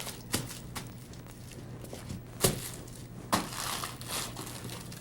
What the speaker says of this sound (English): Now I'm going to use this ribbon. This is a poly satin ribbon